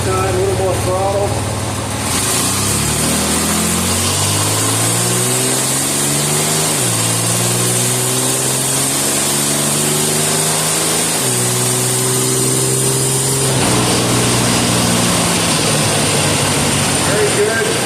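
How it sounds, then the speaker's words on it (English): A car engine revs under throttle during an automatic transmission diagnostic test, climbing through several rising pulls with shift drops between them, loud and close, over a constant background hum. "I'm going to pull it a little harder this time, a little more throttle."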